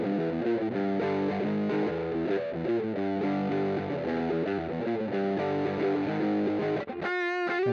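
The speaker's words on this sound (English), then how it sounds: "this already sounds a lot more like a traditional distortion rather than a fuzz" Electric guitar chords played through a homemade pedal with rectifier-diode clipping, a gritty distortion, loud and sustained, with a brief stop near the end before a final ringing strum.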